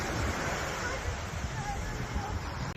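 Ocean waves wash onto a beach in Nha Trang, a continuous broadband roar of surf mixed with wind buffeting the microphone, steady and fairly loud.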